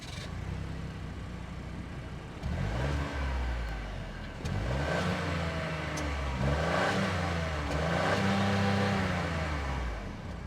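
A 2025 Chevy Trailblazer LT's 1.2-liter turbocharged three-cylinder engine cranks and catches, then idles with several revs rising and falling, close and fairly loud with no talking.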